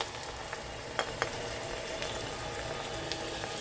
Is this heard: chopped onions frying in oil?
yes